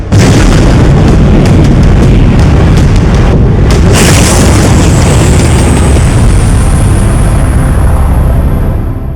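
A single loud, close boom from an experimental projectile-firing shot launching at extreme velocity, a sharp blast followed by a long, heavy rumbling roar that stays loud without fading.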